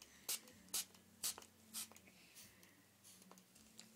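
A small plastic spray bottle mists water onto a plush Beanie Boo toy in a series of short, sharp hissing squirts, four evenly spaced bursts then softer ones, close and quiet against a steady hum.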